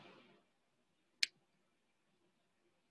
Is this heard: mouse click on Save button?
yes